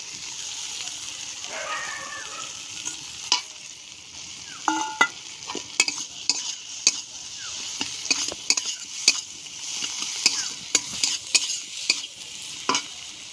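Fried potatoes are stirred into sizzling spiced masala for a cabbage dish. A steady sizzle sits under a string of sharp clinks and scrapes from a utensil against the pan, irregular and close.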